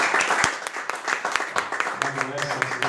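A church congregation at a Saturday faith and power worship service claps for the Lord, a dense, steady crowd applause running through the whole clip, with a voice and tonal sounds rising beneath it toward the end.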